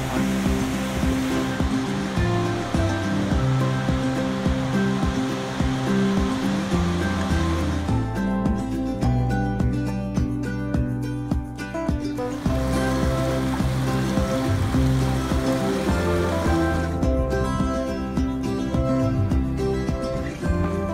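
A mountain stream in Jefferson Park, Oregon, pours between big lumpy basalt boulders, giving a steady, full rushing roar that stays loud and close throughout with no voices.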